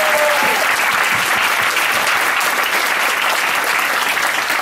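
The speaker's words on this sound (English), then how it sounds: "first of all, applause." An audience bursts into loud, sustained applause at a live comedy event, a dense wash of clapping that fills the whole stretch without letting up.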